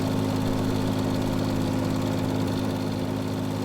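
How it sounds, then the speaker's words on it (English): Lawn mower engine running steadily while cutting grass during a survival roleplay game, a continuous droning hum with a strong low buzz, close and unchanging, with no voices. "Mowing grass just is satisfying."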